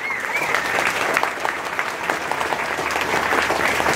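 Crowd at a Morena party committee swearing-in in Chichiquila gives a strong round of applause, continuous dense clapping filling the space evenly from start to finish.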